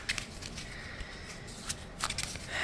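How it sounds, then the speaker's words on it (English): Quick papery riffling and snapping of playing cards being shuffled, close by, in short bursts with brief pauses between them. "And these playing cards. So you basically shuffle."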